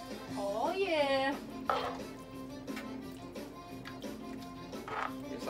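A spoon scrapes and clinks against a pot while jambalaya is stirred, with irregular soft knocks and scraping sounds, and a voice briefly sounds at the start.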